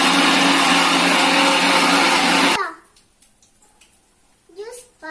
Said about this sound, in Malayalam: നമുക്ക് മിക്സിയിലിട്ട് അടിച്ചെടുക്കാം.